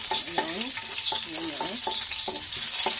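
Garlic and onion sauté in a pan with a loud, dense, continuous sizzle, close up and uninterrupted, joined by rhythmic stirring scrapes.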